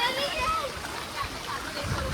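Floodwater sloshing and splashing through a flooded residential neighbourhood after heavy rain, a continuous watery churn at moderate level with voices talking over it.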